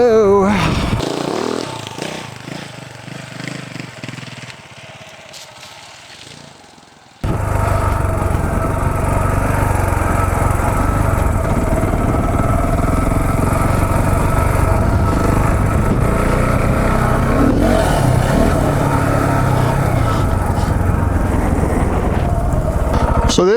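A KTM 690 Enduro motorcycle climbs a steep dirt hill, its engine a loud, sustained drone that starts quieter and wind-buffeted, then jumps to a steady hard-working roar held for the rest of the run.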